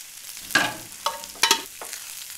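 A spoon stirs cumin and coconut powder frying in hot oil, making three or four quick scraping strokes close by over a soft sizzle, with no voices.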